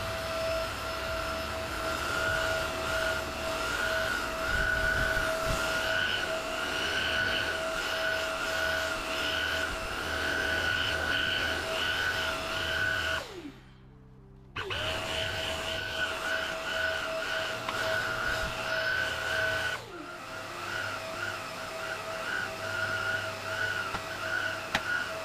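A Karcher FC5 hard floor cleaner runs with a steady, close whirring whine and hum, cutting out briefly about midway before resuming at the same level. No one speaks.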